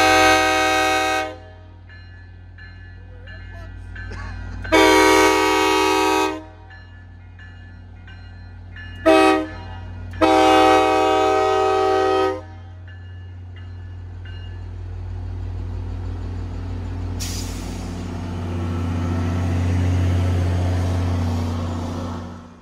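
A train horn blaring at railroad crossings in Massachusetts: four loud blasts, two long, one short, then one long, with a train rumbling close by and a rising roar of passing cars at the end.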